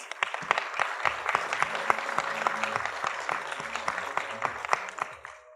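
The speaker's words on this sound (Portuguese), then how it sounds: "Por favor, uma salva de palmas." Conference audience at the APIX 2018 open banking panel gives sustained applause as a speaker is called to the stage, a dense, steady clapping that holds at an even level for several seconds before tapering at the end.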